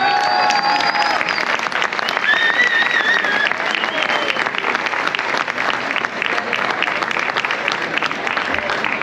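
Crowd applause for the giants at a festival in Palma, Mallorca, sustained dense clapping from many people with whistles and cheers over it, loud and continuous.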